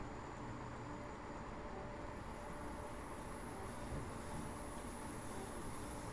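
A Class 319 electric train in Connex livery runs the London to Brighton line in Train Simulator 2016, giving a steady, close rumble of wheels and motors for the whole stretch, with no one speaking.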